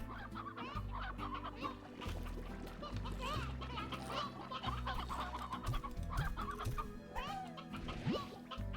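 Hens in the video game Slime Rancher cluck repeatedly over a continuous game backdrop with droning tones, a busy run of short clucks and squawks with occasional splashy sounds, fairly close.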